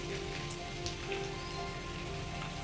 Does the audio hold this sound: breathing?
no